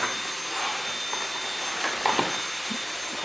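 A Dyson vacuum cleaner runs with a steady high-pitched whirring roar, loud and close, holding constant for a few seconds with faint handling bumps and no talk.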